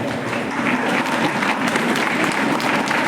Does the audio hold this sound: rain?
no